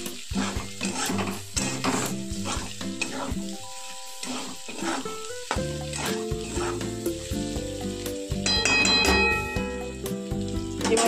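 A crumbled mixture sizzles in hot oil while a utensil stirs it, scraping and clinking against the pan in irregular strokes, close and clear, with no voices.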